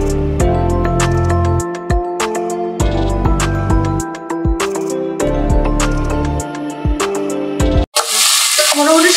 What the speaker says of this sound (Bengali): স্টাফিং এ চিকেনটা মোটামুটি ভাজা হয়ে গেছে